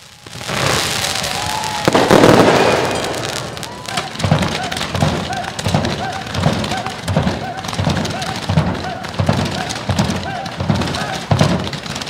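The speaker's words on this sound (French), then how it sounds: "proposer un final éclatant au pied de la faculté Jean Perrin, illuminé par un feu d'artifice" Fireworks exploding as the closing display of an outdoor celebration in front of the Jean Perrin faculty building, a loud rolling barrage of bangs giving way to a steady run of repeated booming bursts, with crowd voices underneath.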